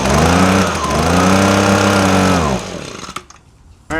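A small engine running on choke drones loudly and roughly, then cuts out abruptly, giving a few faint sputters and coughs before falling nearly silent.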